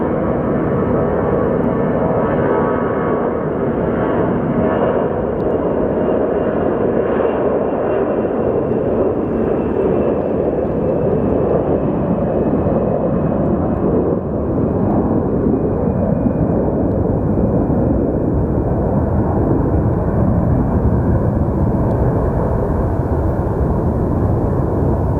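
An Airbus A320 jet roars steadily at Phoenix Sky Harbor Airport, a loud, continuous, close engine rumble holding level throughout with no voices.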